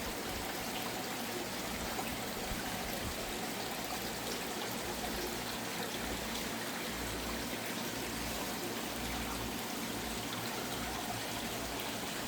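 A pump-fed creek waterfall in a garden pours in a dense, steady rush of splashing and gurgling water, close and constant throughout with no pauses.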